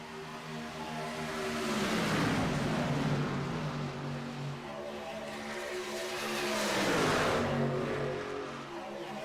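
NASCAR trucks racing two- and three-wide at Kansas Speedway, engines roaring past in two swelling waves of rising and falling pitch, loud and droning with no talking.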